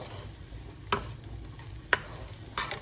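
Shrimp fry in a pan with a soft, steady sizzle, broken by a few sharp clicks from a utensil or the pan.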